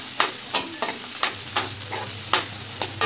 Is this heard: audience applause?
no